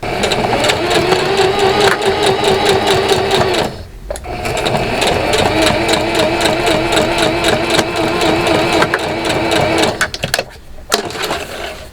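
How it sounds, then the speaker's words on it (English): A sewing machine stitches down a fabric sizing label in fast, steady bursts, loud and close, pausing briefly twice before running on. "I'm going to go ahead and just place this under the sewing machine and sew this down"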